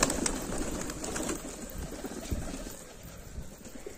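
Domestic pigeons coo softly in the background over a faint, steady ambient hiss, with no voices.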